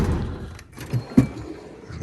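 A metal toolbox drawer slides open with a short rolling scrape followed by a soft knock, close up and brief, against a quiet workshop background.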